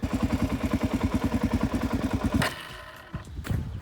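A Suzuki DR-Z400 motorcycle engine running lean idles in a steady, close thumping rhythm, then dies abruptly after a quick throttle blip, leaving faint clatter.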